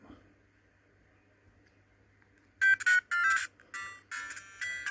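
Quiet near-silence, then bright bleepy chiptune music from Super Mario Land on a handheld Game Boy-style console bursts in, loud with short choppy phrases and brief gaps.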